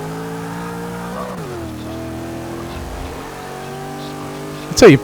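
A 1964 Impala racing in Forza 6, its engine droning steadily with gear shifts dropping and rising in pitch, ending in a brief sharp tire squeal, with a voice talking over it.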